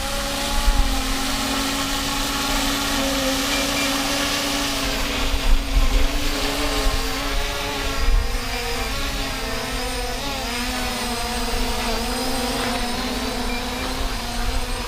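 A JJRC X3P GPS quadcopter drone whirs steadily in flight, a continuous buzzing drone of rotors that stays fairly constant with slight surges and wavering pitch throughout.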